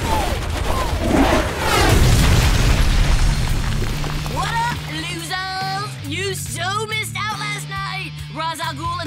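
A cartoon bomb goes off with a loud, rumbling boom that swells over the first few seconds, then gives way to music and excited voices talking and shouting.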